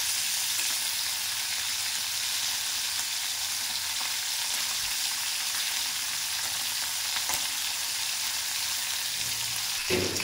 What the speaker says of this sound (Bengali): এবার মাছগুলোকে ভালোভাবে ভেজে নেবো।